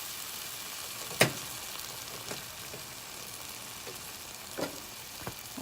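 Onion sizzles in olive oil in a pan for a vegetarian spinach dish, a steady close crackle with a few sharp pops and stirring clinks.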